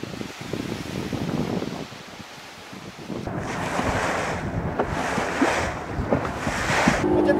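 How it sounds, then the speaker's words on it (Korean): Moderate ocean waves on the coast of Kenya, surf washing in rhythmic surges under heavy wind buffeting the microphone, with a quieter lull before the waves build again. "어쨌든 약간 파도가 좀 있는 상황이고 아주 거친 상황은 아니고"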